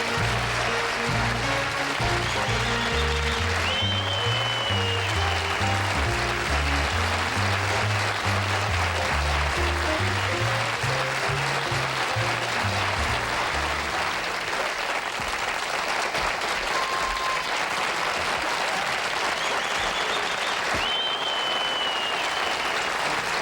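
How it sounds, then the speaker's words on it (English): A television studio audience gives long, sustained applause on a 1973 late-night talk show as the star of Columbo walks out, with steady clapping throughout and a band playing underneath early on. "Would you welcome the star of Columbo, Peter Falk?"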